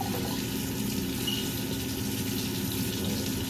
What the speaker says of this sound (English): Wash my spatula real good.